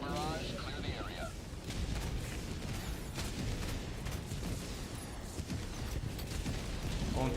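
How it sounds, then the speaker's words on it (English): Orbital barrage explosions rumble through a video game battle, a dense, continuous roar of booming blasts with a radio-style voice heard over it. "Firing orbital barrage. Clear the area."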